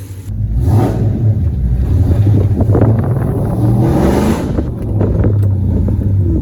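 A loud 6.4 SRT8 engine with long tube headers revs and roars up close as it accelerates on the road, with wind noise buffeting the microphone throughout.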